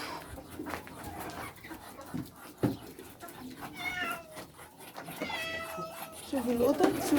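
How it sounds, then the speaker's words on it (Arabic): Cats meow in short, close calls near a backyard bird and poultry area, a few distinct cries rising late in the clip beneath ongoing talk and background noise. "شوفوا القطط، شوفوا القطط"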